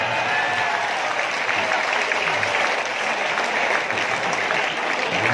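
Audience applause at a live Hindi stand-up comedy show: dense, steady clapping that fills the room at an even level for the whole stretch, with no speech over it.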